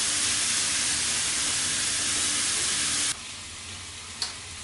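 Salmon sizzles in a hot grill pan: a loud, steady, close hiss that suddenly drops to a quieter sizzle partway through, with a single small click near the end.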